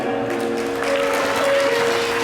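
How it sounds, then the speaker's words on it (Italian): Audience applause at an Italian orchestra dance evening in Bosco Mesola, a steady wash of clapping lasting a couple of seconds with sustained held musical tones ringing through it. "Facciamo un applauso a Federica"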